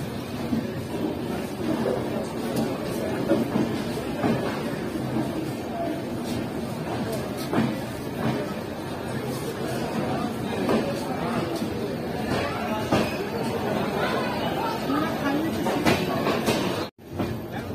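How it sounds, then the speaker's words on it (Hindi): A Bihar Sampark Kranti Superfast Express passenger train rolls along the tracks with a steady rumbling roar and faint rhythmic clatter, loud and close, before a sudden brief cutout near the end. "हमारी गाड़ी तुरंत खुल चुकी है प्लेटफॉर्म नंबर 3 से।"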